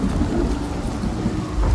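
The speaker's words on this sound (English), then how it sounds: "Constant storm." A thunderstorm in the video game Senua's Saga: Hellblade II gives a steady heavy wash of rain with a low rumbling thunder underneath, dense and continuous.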